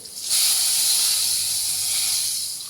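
Spiced eggplant slices coated in Kashmiri chilli powder hiss loudly as they hit a little hot oil, a sudden bright sizzle that holds steady and close before easing slightly.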